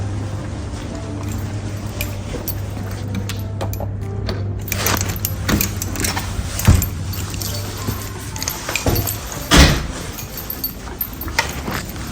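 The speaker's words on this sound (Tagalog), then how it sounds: "Ready na natin yung ating susi." Hotel room keys jangle close by in a series of metallic clinks and rattles, with a couple of sharper knocks, over a low steady hum.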